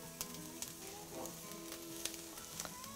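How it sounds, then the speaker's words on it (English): Chopped vegetables for fried rice sizzle steadily in a hot oiled pan, a constant close crackle with occasional sharper pops and a brief stir partway through. "I'm just gonna cook these until they're a bit softened."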